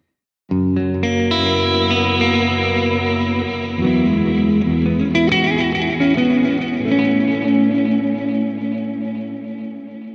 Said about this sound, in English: I'm going to use preset number 6 for this demonstration, which is ambient wash.